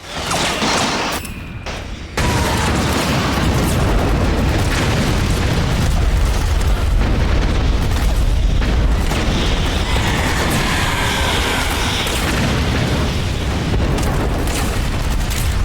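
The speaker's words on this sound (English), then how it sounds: "Playing the game in Dolby surround sound, it truly makes you feel like you're in an active battlefield, with soldiers yelling out commands, explosions overhead" A PS3 war game in surround sound booms with continuous explosions and gunfire, a loud, dense battlefield roar that barely lets up after a short gap near the start.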